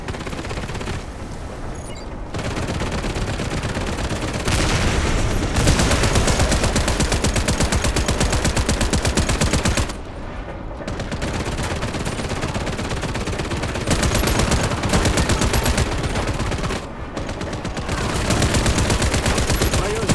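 Machine-gun fire rattles in long automatic bursts inside the video game Warface, the action set aboard a moving train. Dense, loud volleys run almost continuously, split by a few short pauses.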